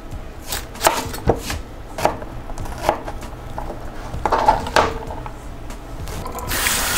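Onions chopped on a cutting board for a Louisiana gumbo, a series of irregular knife thuds close by, with no talking.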